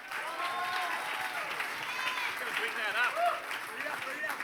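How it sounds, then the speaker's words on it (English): Raucous applause from a live audience at a storytelling show, steady clapping with cheering voices mixed in, moderately loud and filling the whole stretch. "let's keep that raucous applause going for your next storyteller"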